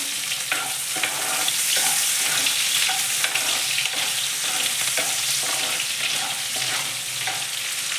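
Cashews and long-sliced onion roasting in a pan, a steady loud sizzle and crackle throughout with frequent scraping of stirring; no talking.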